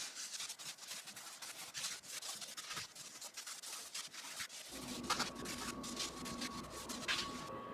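Scrubbing grime off an old ceramic tile floor by hand, a steady, faint rubbing and scratching that continues throughout, with a low hum joining partway through.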